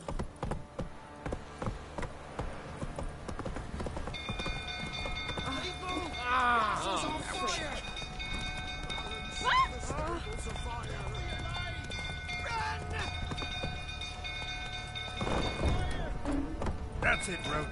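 Roach the horse's hooves clip-clop at a steady run in The Witcher 3, a continuous rhythmic patter heard over game music and a voice talking throughout.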